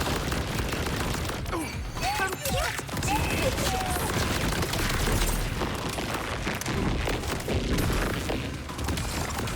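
SMG fire in the Borderlands 4 video game, rapid dense bursts of gunshots mixed with game effects and music, continuous and fairly loud throughout.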